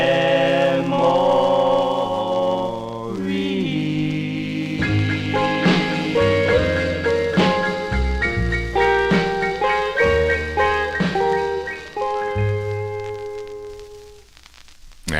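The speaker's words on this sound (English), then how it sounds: "That's the sound of Lillian, Leach, and the Mellows" The Mellows' 1955 doo-wop record "Yesterday's Memories" playing from a 45, with a lead vocal over group harmonies and a slow backing beat, continuous and full, ending abruptly near the close.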